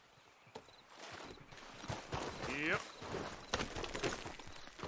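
Horse hooves clopping in Red Dead Redemption 2, soft irregular footfalls on the ground, quiet and mixed under other game ambience, with a brief spoken reply and a short tonal sound midway.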